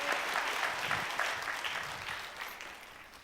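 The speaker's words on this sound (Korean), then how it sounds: "하나님께 영광의 박수 올려드리겠습니다." Applause from the congregation at a church youth worship service: a steady patter of many hands clapping, moderately loud at first and gradually thinning and fading over a few seconds, with no talking.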